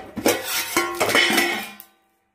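A metal lid clatters onto a pan of smoking-hot oil in a home kitchen, a few close, sharp clanks and rattles that then fall silent.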